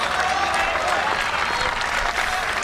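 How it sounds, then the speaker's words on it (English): Spectators at the Mumbai Open women's tennis tournament clap in a dense, steady burst of applause, close and sustained for a few seconds with faint voices mixed in. "the crowd claps because the local favorite has just delivered that really great forehand"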